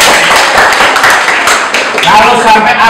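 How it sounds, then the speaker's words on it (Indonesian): Clapping rises from an audience at a school Easter sermon in Jakarta, a scattered patter of hands heard beneath a loud voice talking over it. "Berikan tepuk tangan."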